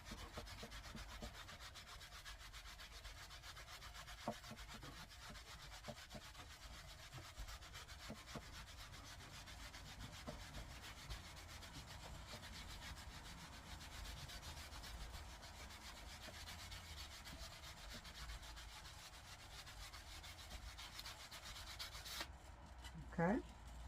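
Steady abrasive rubbing and sanding on a hat head as it is filed and buffed by hand, a continuous close scraping texture with a brief sharper scrape near the end.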